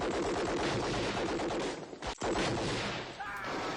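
Sustained gunfire in a Vietnam War firefight, dense rapid bursts of shots running loud and close, dipping briefly near the middle before the barrage resumes.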